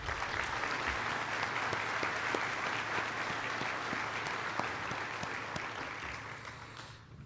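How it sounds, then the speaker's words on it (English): Steady audience applause for board members at a breakfast event, a dense wash of clapping from many hands that holds evenly for several seconds before tapering off at the end. "please give them a round of applause"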